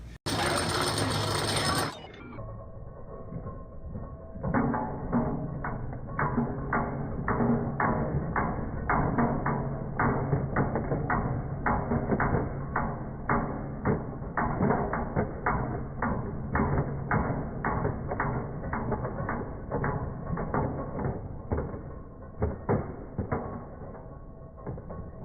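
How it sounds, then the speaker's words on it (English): An antique 1800s lump-cutter machine turns its two wheels in a steady run of rapid clicking, ratcheting mechanical beats, close and continuous after a brief noisy start. "These two wheels come together, and they turn. And as they turn, this thing butterflies it and kicks it out."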